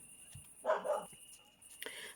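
Dogs barking, one short burst of a couple of sharp barks near the middle, followed later by another brief bark, fairly close against a quiet background with a faint steady tone.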